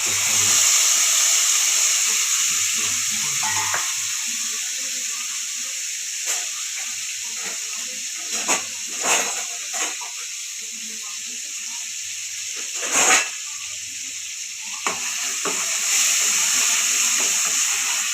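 Onion paste for aloo kurma frying in a pan gives a constant hissing sizzle, broken by a few sharp stirring scrapes and clinks, loud and near.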